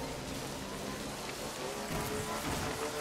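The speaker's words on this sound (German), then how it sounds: "Komm, wir fahren nochmal erst im Regen raus." Steady rain hisses in Death Stranding, a soft continuous wash of falling drops with a faint low rumble underneath, heard alone and fairly quiet.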